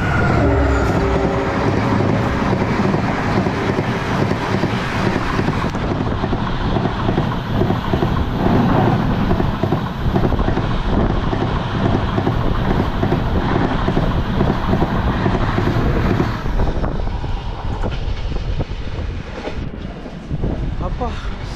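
A Trichy to Velankanni DEMU train hauled by a WDP-type locomotive rushes past at high speed, a dense, loud roar of wheels and wind buffeting the microphone that holds steady for most of the pass, then thins and fades as the train moves away.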